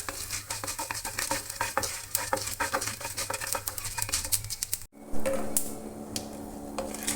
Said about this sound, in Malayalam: ഉഴുന്ന് ബ്രൗൺ നിറമാകുന്നത് വരെ ഫ്രൈ ചെയ്യുക.